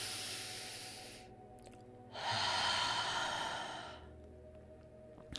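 Slow, deep breaths during a guided meditation: a long audible exhale, a pause, then a fuller breath that swells and fades, close and soft with no speech.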